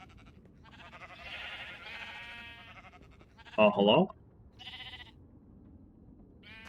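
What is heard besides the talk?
sheep bleating in the video game Minecraft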